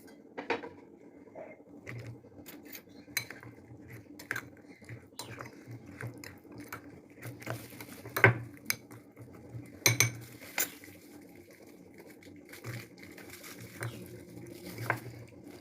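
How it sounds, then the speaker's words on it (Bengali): Cut okra (bhindi) is tossed with spices including fenugreek powder in a bowl, giving soft scattered clinks and scraping taps of a utensil against the bowl, quiet and irregular, with no talk. "এবার আমি কেটে রাখা ভেন্ডিগুলো এর ভিতরে দিয়ে দেব।"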